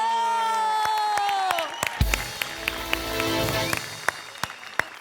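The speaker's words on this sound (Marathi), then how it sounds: "तुमच्या ह्या अद्भुत सादरीकरणाला मी उभा राहून टाळ्या वाजवतो" Applause and cheering from a studio crowd after a stage performance on a reality show, with sharp claps and crowd noise breaking out midway after a sustained musical tone fades.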